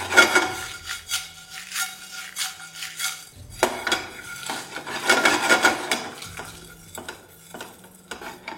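Whole coriander seeds and black peppercorns dry roasting in a pan over a medium flame, with a spoon scraping and stirring in repeated bursts and light rattling between strokes.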